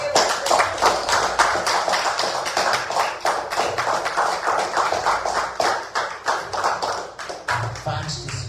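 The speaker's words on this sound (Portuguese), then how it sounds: "Bate palmas, Senhor Jesus." A church congregation claps hands in a steady, fast rhythm of dense, evenly spaced claps that runs throughout, with singing or voices mixed beneath.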